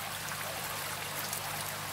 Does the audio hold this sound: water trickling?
yes